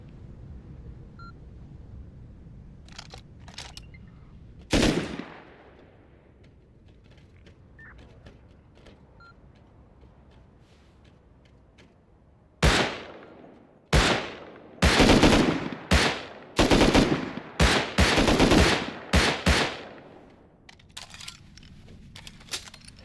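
Sniper gunfire in the survival video game Rust: one sharp report early, then after a quiet stretch a rapid cluster of loud, cracking shots fired in quick succession, each trailing off briefly.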